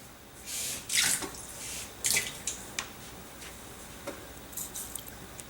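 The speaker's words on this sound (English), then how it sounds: "we're just going to add a tablespoon of water to that." Brief splashes and drips as a tablespoon of water is poured into a bowl of freeze-dried eggs, a couple of short bursts followed by scattered small drips, close and fairly quiet.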